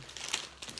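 A plastic packet of sour foam gummies is torn open during a candy taste test, giving a short burst of soft crinkling and crumpling close to the mic, with one sharper rustle partway through.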